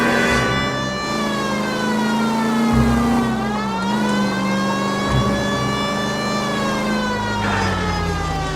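Police car siren in the video game L.A. Noire wails steadily and loud, its pitch sliding up and down in long sweeps, with a low engine rumble underneath and no talking.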